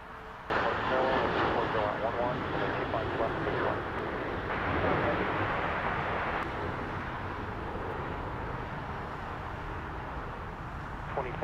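A jet airliner roars on takeoff from runway 25 right at Los Angeles International Airport, a loud sustained engine rumble that holds steady and slowly eases, with radio chatter from air traffic control over it.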